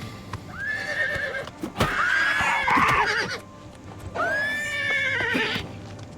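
A horse in the game Oblivion Remastered whinnies twice in long rising-falling calls, with hoof clip-clops and thumps between, close and loud.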